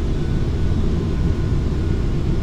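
Steady low engine drone inside a small airplane slowed to near stall speed, a constant close rumble with no pauses and no talk.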